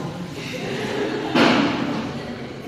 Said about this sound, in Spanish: Cierra el portón.